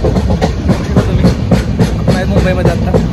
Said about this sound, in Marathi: मित्रांनो फायनली आपली ट्रेन चालली आहे.